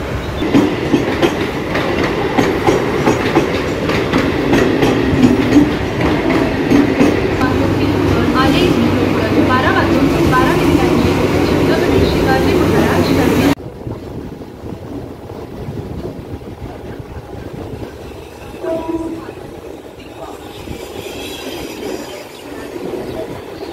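A local train passes through Ghatkopar railway station in Mumbai, its loud rumbling wheels and clatter filling the first half before cutting to quieter station ambience, with people talking over the noise.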